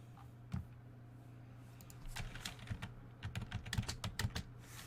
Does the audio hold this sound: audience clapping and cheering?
no